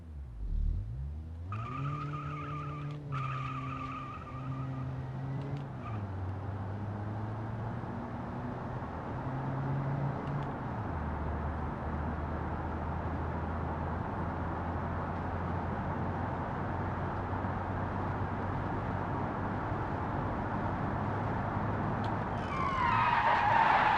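Simulated car engine in the Automation game revs up through several gear shifts during a standing acceleration test, a steady loud drone rising in pitch with each gear, ending with a brief tire screech.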